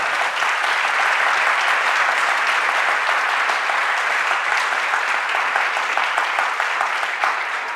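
A church congregation at a Sunday Baptist service applauds steadily, a dense, even wash of many hands clapping close and loud for several seconds, with no talk over it.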